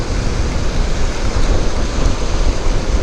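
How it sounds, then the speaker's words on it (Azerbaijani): Strong wind roaring and buffeting the microphone during a motorcycle ride in the rain, a loud, continuous rushing noise with no breaks. "Küləkdə var, əksinə gedərəm"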